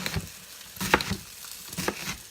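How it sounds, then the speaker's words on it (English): Sausage sizzles steadily in a hot skillet, with a few louder crackles and scraping stirs punctuating the frying noise. "I hear the sausage sizzling already."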